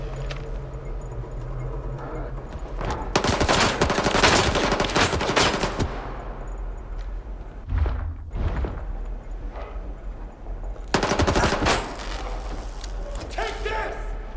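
Bursts of automatic gunfire from the video game Stalker 2 come as two loud, rapid volleys, one early and one near the end, with mixed in-game noise and voices between them.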